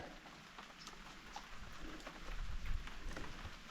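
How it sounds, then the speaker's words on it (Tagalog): A faint, light drizzle on an overcast day in a rural field: soft scattered patters and ticks over a low, hushed background, growing slightly denser toward the end. "at ang panahon natin ngayon dito ay makulimlim umaambon-ambon siya"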